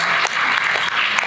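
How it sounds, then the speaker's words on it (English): Audience applause for a business panel: steady, dense clapping from a crowd of moderate size, continuous and fairly loud throughout the short stretch. "give a round of applause to the panel"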